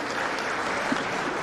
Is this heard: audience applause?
yes